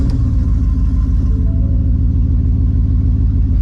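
A half-ton pickup truck's engine revs hard, a loud, steady low rumble with a throaty, violent edge that holds close and constant throughout.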